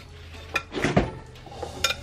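A spoon tosses sliced apples in a bowl: a few soft clinks and wet shuffling scrapes, close and quiet, in a short burst.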